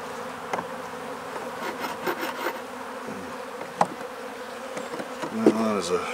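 Honeybees buzz in an opened, failing beehive during an inspection: a steady, close insect hum with scattered individual wingbeat whines and faint scraping and handling noises, no talking.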